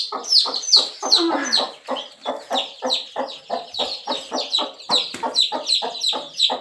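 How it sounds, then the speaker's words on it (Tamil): Many village native chickens and eleven chicks cluck and peep in a steady, busy stream, close by and fairly loud, with no talking. "பதினோரு கோழி குஞ்சு இருக்குது"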